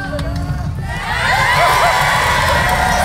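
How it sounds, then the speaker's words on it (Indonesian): A game show studio audience shouts and cheers loudly together, calling out a curtain number choice, the crowd noise swelling after a second and holding as a dense wall of voices. "Banyak yang teriak 2, oke."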